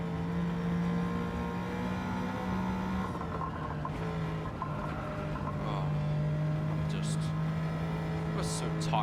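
A race car engine in Gran Turismo 7 holds a steady high drone with tonal whine, then rises briefly toward the end, continuous and fairly loud, with no talk over it.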